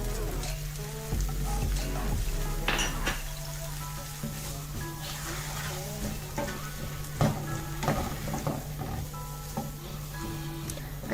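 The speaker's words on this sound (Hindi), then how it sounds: "अच्छी तरह मिक्स करेंगे और 2 मिनट तक इसको पकाएंगे।" Butter corn seasoned with salt and black pepper is stirred in a hot pan, giving a steady close sizzle with intermittent scraping and clinking from the spoon.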